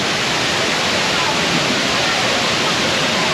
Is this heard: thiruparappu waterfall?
yes